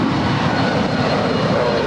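A 27-year-old Boeing 757-200 jet airliner departs LAX, a steady, loud broadband jet engine roar filling the scene without a break.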